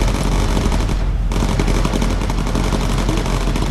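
Sustained rapid machine gun fire from a bomber's turret in the Bomber Crew video game, loud and continuous bursts with a brief dip before firing resumes.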